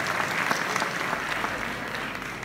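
Applause from an audience at a town New Year's greetings ceremony in Vias, following a medal presentation, a steady dense patter of many hands clapping at moderate level.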